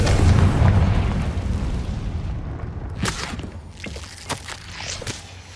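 Fiery Confringo spell blasts in the Hogwarts Legacy video game: a deep, booming rumble at the start, then several sharper bursts and pops spaced over the following seconds, with no talking.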